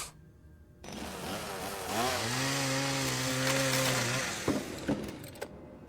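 A chainsaw in the video game Tormented Souls 2 revs up and holds a loud, steady whine for a few seconds, then cuts out, leaving a few sharp clanks and knocks.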